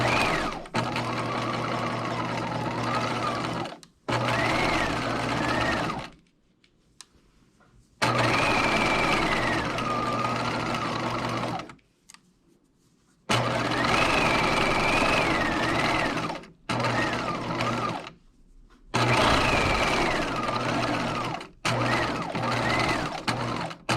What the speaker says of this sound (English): I'm just going to get as close as I can to that pin without actually sewing over it